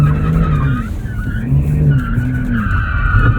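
Tires on a 2023 Porsche 911 Turbo S squeal steadily as the rear slides on a track at the Porsche Experience Center, a loud continuous skid over the engine's drone, heard from inside the car.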